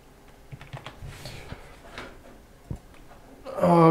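Someone types a password on a computer keyboard while setting up Windows 8 on a new PC, producing a short, faint run of irregular key clicks, with a louder burst of sound at the very end.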